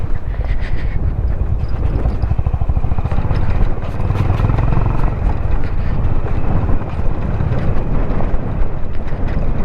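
A motorcycle descends an off-road mountain track in Spiti at high altitude, its engine rumbling steadily and close with wind buffeting the microphone and loose clatter throughout.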